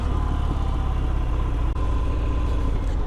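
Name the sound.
Harley-Davidson Fat Bob motorcycle engine pulling up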